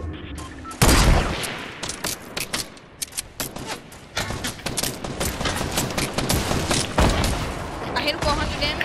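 Gunfire in Fortnite Battle Royale near a cabin: rapid, loud bursts and overlapping shots crackle through the whole stretch, with a voice faintly underneath.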